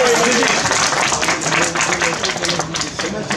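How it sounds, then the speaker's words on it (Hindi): An audience claps for an honoree at a press club oath-taking ceremony, dense close clapping that stays loud and fairly even for a few seconds. "मतीश जी के लिए तालियां।"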